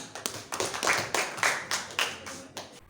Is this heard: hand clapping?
yes